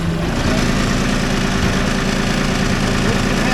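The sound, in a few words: engine revving up on hydraulic chain machine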